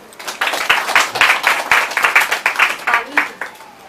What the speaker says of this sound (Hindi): चलो माँ के लिए ताली बजाओ।